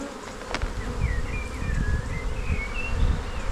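Honey bees from a backyard hive hum in a steady close-up buzz while frames are lifted and shifted into a super, with a few faint rustling and knocking sounds from the handling.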